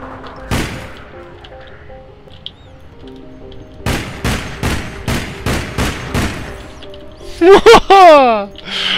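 A rapid string of about eight loud gunshots from a gun in APB Reloaded rings out in a steady rhythm, preceded by a single earlier shot and followed by chirpy electronic game effects.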